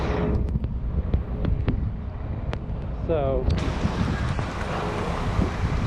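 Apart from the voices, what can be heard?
storm wind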